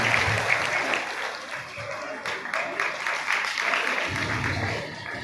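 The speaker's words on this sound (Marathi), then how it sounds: "पुन्हा एकदा टाळ्या वाजवायच्या सरांचं स्वागत करूया" Audience applause welcoming a guest speaker at a devotional gathering, a continuous wash of clapping with low crowd murmur beneath, steady through the whole stretch.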